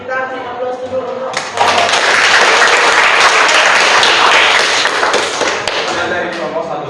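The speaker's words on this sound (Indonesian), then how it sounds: "kita beri aplaus dulu untuk" A classroom group bursts into applause, steady dense clapping that swells quickly after a teacher's voice and holds for several seconds before talk resumes over the tail.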